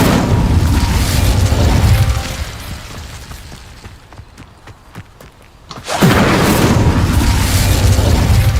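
Incendio fire spell cast in Hogwarts Legacy: a loud, roaring fiery blast, then a quieter stretch with scattered thumps and clicks, before another strong rushing burst of flame swells back in.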